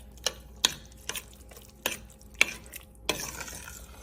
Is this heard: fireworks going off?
no